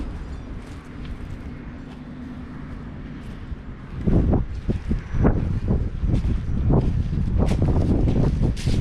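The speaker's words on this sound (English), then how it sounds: "I think it's a little too windy to do this today." Gusty wind buffets an action camera's microphone outdoors, a steady low rumble for the first few seconds that turns into louder, choppy bursts of blustering noise for the rest.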